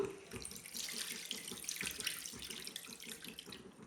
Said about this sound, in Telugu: ఇప్పుడు చింతపండు రసం పోసుకోవాలి